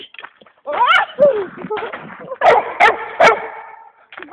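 Several dogs on a woodland outing give a run of sharp barks and yips, with a few whimpers mixed in, close and fairly loud, while people talk over and between them.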